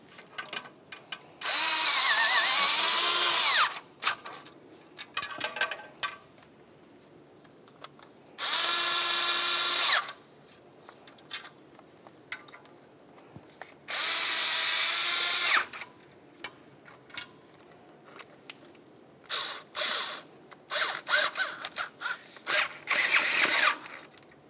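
A power tool and ratchet snug the exhaust manifold bolts on a 2009-2010 Pontiac: several loud, whining bursts of about two seconds each, separated by quieter clicking, clanking and ratcheting between them.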